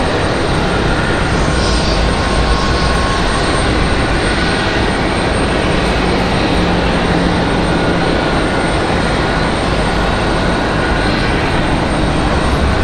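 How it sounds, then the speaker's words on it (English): A Breeze Airways Airbus A220 comes in to land at Raleigh-Durham International, a loud, dense, continuous jet roar filling the whole stretch without any voices over it. "Got another Breeze Airways coming down the hill here for you guys."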